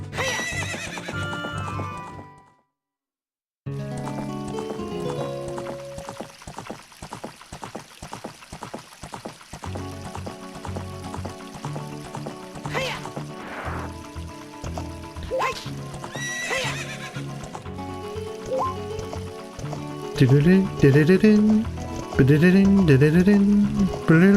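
Epona, the horse from The Legend of Zelda: Ocarina of Time, whinnies and gallops in-game, hoofbeats clip-clopping steadily under game music after a brief silence, with louder neighs near the end.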